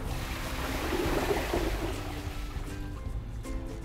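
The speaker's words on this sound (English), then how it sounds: "And then we'll flush both of them and see how they go." Two Kohler toilets flushed at the same moment, a loud rushing, gurgling water surge that peaks early and then tapers into a softer draining swirl.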